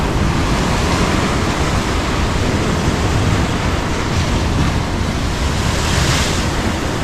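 Sea waves crash onto rocks at Colachel beach near Kanyakumari, a steady, loud, unbroken surf roar with wind buffeting the microphone throughout.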